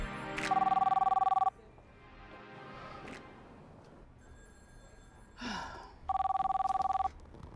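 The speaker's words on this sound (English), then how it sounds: "I'm gonna make a phone call." A telephone bell rings in two loud, steady bursts, about a second each, separated by a quieter stretch with faint breathy sounds.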